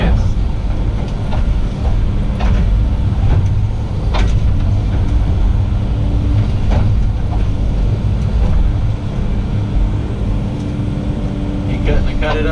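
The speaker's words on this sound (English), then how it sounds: "that's a steel cutting grapple right there" A steel cutting grapple on heavy machinery chews through logs, its loud, constant engine roar dominating with scattered cracks and knocks of wood breaking throughout.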